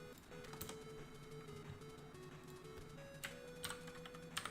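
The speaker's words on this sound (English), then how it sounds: "You're gonna hear a lot of click clacking from my keyboard" Computer keyboard keys click and clack in a steady, busy patter, close and fairly quiet against a low room hum, with no talking.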